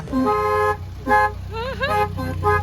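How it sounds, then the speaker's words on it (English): A small car horn toots in a series of short, bright honks, some with a warbling pitch, close and fairly loud. "I'll overlay the sound of the little horn coming in."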